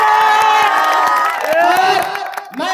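A village tournament crowd in Gorigama cheers and whoops loudly, with voices shouting over a dense, steady roar of people that dips briefly near the end.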